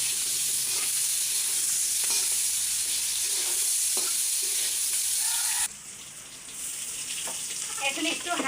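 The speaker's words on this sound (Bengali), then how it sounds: "যেহেতু আমি খোসা সহ ভেজে নিচ্ছি, তো এভাবেই আসলে ঢেকে ঢেকে ভাজতে হয়" Pointed gourd (potol), skin on, fries in a little oil in a pan covered between stirs. A steady, close sizzle turns into a brighter, louder hiss partway through, with no talking.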